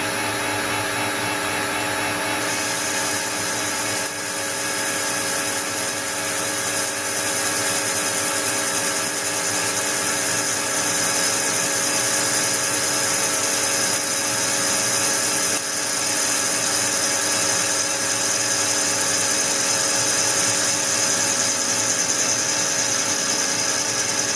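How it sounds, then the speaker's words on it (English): A metal lathe running at 600 RPM takes a cut on a bronze blank for a 5 tpi Acme nut, part of a Harrison mill restoration. It gives a steady, loud, continuous machine hum and whine throughout, with no talk. "I'll set the machine going, and we'll take the cut."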